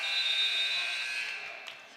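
A sustained, loud electronic buzzer blares at the end of the first quarter of a high school basketball game between Paris and Covington, holding steadily for about two seconds before fading slightly amid crowd noise.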